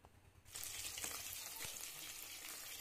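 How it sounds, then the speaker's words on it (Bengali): Chicken pakoras fry in hot oil in a wok. After a quiet half second, a steady, close, broadband sizzle starts suddenly and continues without a break, with a faint clink as the pieces are turned. "এক পিঠ ভালোভাবে লাল লাল হয়ে ভাজা হয়ে গেলে অন্য সাইডটাও কিন্তু এইভাবে চামচ দিয়ে উল্টে নিচ্ছি"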